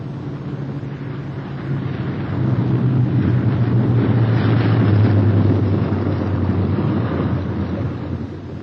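A WWII bomber with a dead inboard engine returning to an airfield, its deep droning engine rumble swelling louder as it nears, then easing slightly, with wind noise and no voices.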